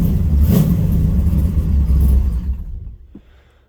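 A 6.0L WS6 V8 on a cold start, rumbling loud and close with rough uneven revving that suddenly stalls and cuts out, leaving near silence and a brief knock.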